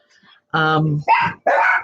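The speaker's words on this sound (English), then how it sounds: "I apologize for the dogs," Dogs bark indoors during a spoken reading, three loud, close, drawn-out barks in quick succession with brief gaps between them.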